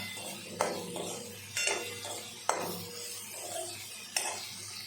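Cumin and coriander powder fry in a pan, a soft sizzle running under several sharp spoon scrapes and knocks against the metal as the spices are stirred, close and quiet.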